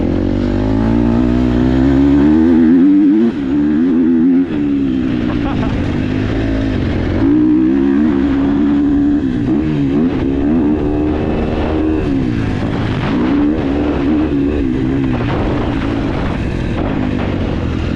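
A KTM 250SXF or Yamaha YZ250F 250cc dirt bike engine revving at high RPM, a loud, continuous buzzing drone that rises and falls in pitch with throttle changes throughout.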